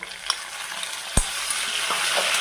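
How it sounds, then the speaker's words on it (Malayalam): Small shallots dropped into a hot frying pan for bitter gourd masala, with a continuous bright sizzle, a sharp knock as they land, and a few light spoon taps while the frying carries on. "ഒരു 10-20 ചെറിയ ഉള്ളി, അതുകൂടി നമുക്ക് ഇതിലേക്കൊന്ന് ചേർത്ത് കൊടുക്കാം"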